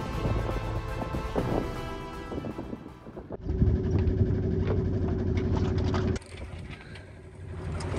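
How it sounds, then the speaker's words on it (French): A sailboat's engine runs at low speed while crossing calm Atlantic water in the Bay of Biscay, a steady, moderate drone with shifts in tone and some wind noise. "On avance au moteur à une moyenne de 3 nœuds."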